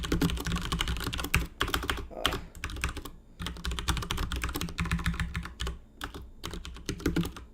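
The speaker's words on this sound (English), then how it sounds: "I told people there was not going to be any keyboard sounds on the stream, but I guess I was lying." Steady, rapid typing on a computer keyboard during a livestream coding demonstration, a dense run of close clicking keystrokes with a few brief pauses, no talking.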